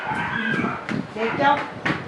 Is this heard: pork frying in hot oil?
no